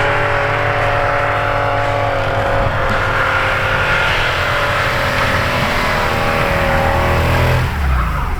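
A drift BMW with a 10ft intake and no roof revs hard and loud, a sustained, droning engine roar with strong steady harmonics that drops off sharply near the end, no voices over it.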